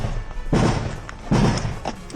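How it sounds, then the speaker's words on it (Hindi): Muffled booms from a HIMARS rocket strike on Russian positions in Ukraine, two heavy deep thuds about a second apart over a steady rumbling background, with no voices. "यूक्रेन ने हाइमर्स से हमला कर रूस के कई पोजीशन को तबाह कर दिया।"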